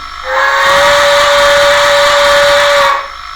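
A loud steam locomotive chime whistle, a six-chime sound from a model Berkshire locomotive's sound decoder, gives one sustained, multi-toned blast of about two and a half seconds, rising in and cutting off cleanly.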